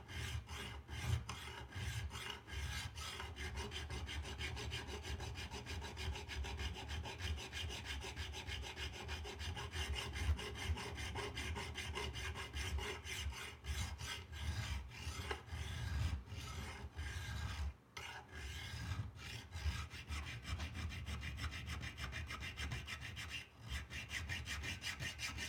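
Steady hand filing on a knife blade, a continuous rasping stroke repeated evenly for the whole stretch, close and moderately loud, with only a couple of brief pauses and no talking.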